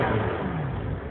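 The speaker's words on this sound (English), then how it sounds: "that gorgeous exhaust note, not sure if you'll even be able to gauge how deep and throaty that V8 rumble is" A Maserati F1 Spyder Cambiocorsa V8 revs with a deep, throaty exhaust rumble, a steady near engine roar that holds for about a second with no talk over it.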